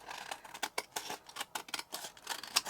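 Scissors trim a paper tag for a junk journal, a close, quick run of crisp snipping cuts in an uneven rhythm, with no talking.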